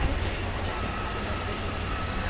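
Steady broadband rumble and rattle of a train car rolling along rails, heard from inside a nearly empty carriage on an overland journey from Malaysia to Thailand, continuous and fairly loud with no talking.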